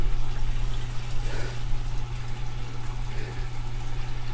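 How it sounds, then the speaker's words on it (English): Water streams steadily into a Splendide Ariston washing machine in an RV, a constant hiss and gurgle under a steady low hum. "There's water coming in."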